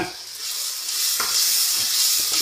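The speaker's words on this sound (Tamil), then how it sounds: "இது தக்காளி வந்து க்யூர் பண்ணி வச்சுருக்கோம்ல அதையும் ஆட் பண்ணிக்கிடுங்க" Tomato puree hits a hot pan of spiced kabsa base and sizzles steadily, a close, loud hiss with faint stirring scrapes underneath.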